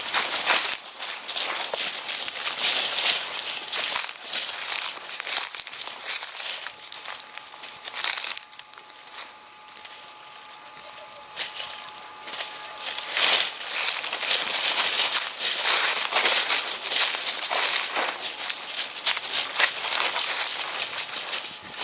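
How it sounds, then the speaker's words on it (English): Outdoor gear for a trip into the bush is being unwrapped, giving steady crinkly rustling of wrapping material throughout, with soft footsteps and faint birds in the background. "Pat's just unwrapping our gear"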